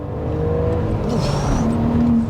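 Audi B5 RS4 Avant accelerating hard in second gear, a loud, close engine roar with pitch climbing steadily through the rev range, no talking over it.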